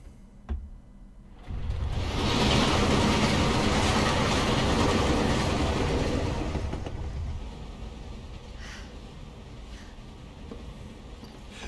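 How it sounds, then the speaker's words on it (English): A fast-moving train in the Resident Evil 2 video game rumbles in loud and steady, holding for several seconds before easing to a quieter, continuous roll with faint clatter. No voices are heard. "That train seems like it's moving a lot faster than when Leon got on it."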